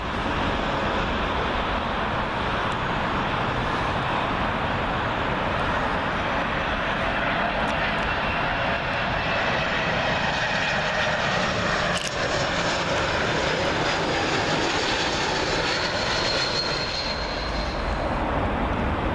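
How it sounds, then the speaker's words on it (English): A Swiss Air Airbus A220 arriving from Geneva on approach to runway 27L at Heathrow sends out a loud, steady jet roar that fills the whole stretch without a break. "Up next, Swiss Air A220, arriving in from Geneva"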